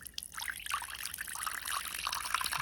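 Water pours and trickles into a small bonsai pond, a former reptile pond from a pet store, with a steady bright splashing stream running close up for a few seconds without talk.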